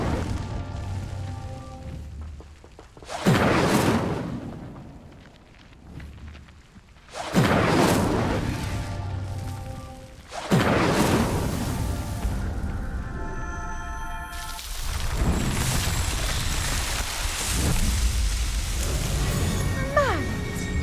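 Incendio fire spell cast in the game Hogwarts Legacy, a loud whooshing burst of flame that swells and rumbles for a couple of seconds, repeated several times amid booming magical effects and a steady background score.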